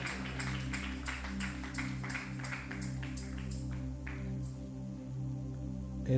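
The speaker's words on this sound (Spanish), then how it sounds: "Un aplauso fuerte a Jesús." A church congregation claps rhythmically in praise to Jesus over a sustained, humming musical backdrop. The even beats are crisp for about four seconds, then thin out and fade beneath the lingering drone.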